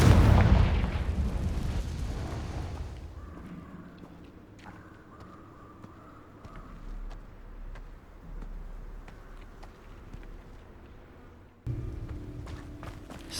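Confringo explosive spell cast in an acromantula cave in Hogwarts Legacy, a loud fiery blast opening the sound and then fading into low rumbling echoes, with a second thud near the end.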